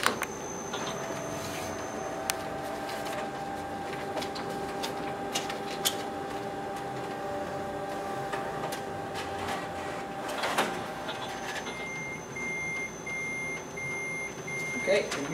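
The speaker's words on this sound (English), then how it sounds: "this machine is a Ricoh MP C2550. It's a 25 page per minute multi-function color copier with network printer, network scanner." Ricoh MP C2550 color multifunction copier running a stapled, hole-punched copy job, a steady mechanical whir with soft clicks and thumps from the finisher, while a person talks over it.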